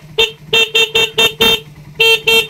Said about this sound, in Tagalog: So, stock horn, subukan natin.